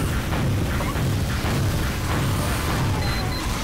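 Loud, continuous booming and bursts of explosions in the video game Team Fortress 2 during a Mann Vs Machine match, as a sentry gun is destroyed amid heavy battle noise, with no voices.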